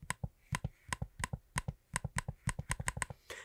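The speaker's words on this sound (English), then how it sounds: "so you can hear the trackpad really quick" A Lenovo Yoga 9i laptop trackpad clicks about two dozen times in quick succession, close-up and crisp, with soft, even taps and no speech.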